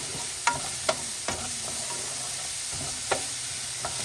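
Onions frying in a pan on a lowered stovetop flame in a tiny-house kitchen, a steady soft sizzle broken by a handful of sharp scraping stirs, close and alone with no talk.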